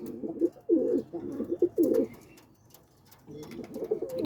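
Pigeons coo in a small early-morning loft, several close, throaty bursts in quick succession, then a pause of near quiet before the cooing resumes.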